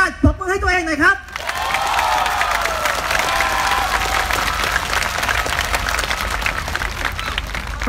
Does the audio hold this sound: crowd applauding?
yes